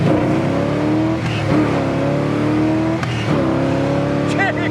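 A 1969 Chevrolet Chevelle SS 396 convertible's big-block engine revs in steady, loud surges with a deep, sustained rumble. Brief rises in pitch suggest throttle blips, and people talk nearby over the engine.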